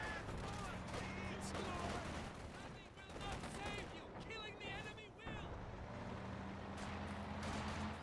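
Gunfire from an online real-time strategy match, with shots crackling intermittently beneath continuous commentary and a low mechanical battlefield hum, the bursts growing denser toward the end.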